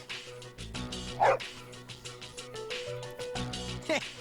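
Dog in the video game Persona 3 FES barking and yipping in short bursts with whimpering tones, over soft background game music.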